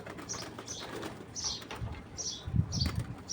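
A racing pigeon at a loft flaps its wings in several short, soft fluttering bursts, with faint cooing and light handling noises nearby.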